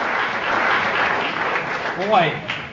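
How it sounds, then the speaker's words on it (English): Audience in Texas applauding an introduction for a congressman, a sustained patter of clapping from a crowd with a voice rising briefly over it near the end. "And I actually got applause for an introduction."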